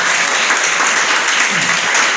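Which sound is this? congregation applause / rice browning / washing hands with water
congregation applause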